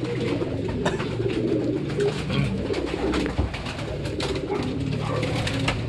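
Two hen pigeons coo softly and repeatedly, close by, over a steady background murmur of other birds.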